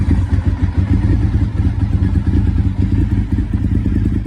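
A silver Honda SP1 superbike with very low miles and an aftermarket set of exhaust pipes idles close by, giving a loud, steady, lumpy twin-cylinder rumble throughout.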